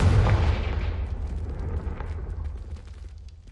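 A loud, heavy blast from a Confringo fire spell in Hogwarts Legacy, a booming burst up front that rolls off into a long rumbling decay over several seconds.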